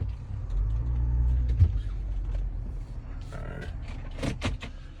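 A truck engine rumbles low and steady after being put into gear, followed by a few clunks and rattling knocks near the end, heard from inside the cab.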